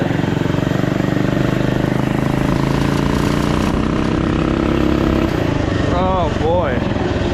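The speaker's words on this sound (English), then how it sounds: "Oh boy, that was full throttle right there." An off-road mini quad's engine revving hard at full throttle, a loud buzzing drone that rises and falls in pitch, with a voice talking over it near the end.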